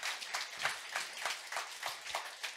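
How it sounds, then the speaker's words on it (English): Audience applause at an international community meetup in Vilnius: steady, moderately faint clapping from a crowd with individual claps standing out in a loose rhythm, no talk over it. "Round of applause for all of them."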